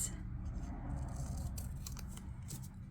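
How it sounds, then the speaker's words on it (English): Quiet snipping of scissors cutting a sticker for a Happy Planner, a few soft crisp cuts over a low steady hum. "I'm going to simply just cut this"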